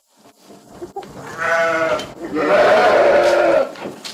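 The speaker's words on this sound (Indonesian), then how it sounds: "sekarang kita kasih makan kambing." Goats bleating while being fed, two drawn-out bleats rising over a busy outdoor background, close and moderately loud with faint voices around.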